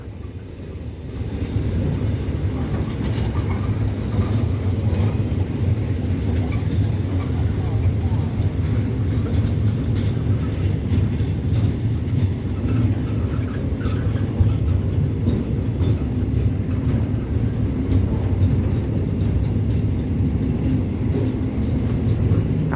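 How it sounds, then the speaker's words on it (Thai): A crude oil freight train rolls past Pak Nam Pho railway station, its wheels drumming on the rails in a loud, steady, continuous low rumble with dense rhythmic clatter. The sound stays close throughout, and a voice speaks over it. "ฟังเสียงล้อกระทบรางไปด้วยนะ"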